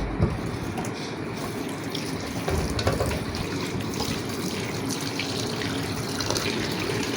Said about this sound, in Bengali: আমি বেগুনটাকে ধুয়া পরিষ্কার করছি, এখন আলুটাকে পরিষ্কার করি।